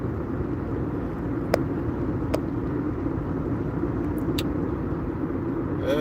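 Steady road rumble from a car moving through traffic, a constant low drone of tyres and engine with a few faint clicks and short tones on top.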